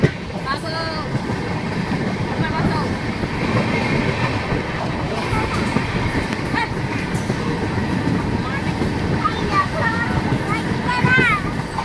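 Kanchan Kanya Express running on broad-gauge track, a loud continuous rumble and rhythmic wheel clatter lasting throughout, with voices talking over it at times.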